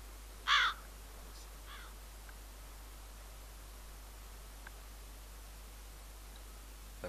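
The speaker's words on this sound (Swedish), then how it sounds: "men nu är man en kråka" A crow in the survival game DayZ gives one loud, clear caw, followed by a few much fainter calls over a steady low static hiss.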